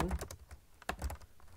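Quick, uneven keystrokes of someone typing C++ code on a computer keyboard, close and clear, with a few sharper clicks among softer taps and no voices.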